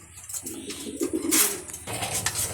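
Racing pigeons coo softly in a loft, a couple of low burbling phrases close by with faint rustling and no talk.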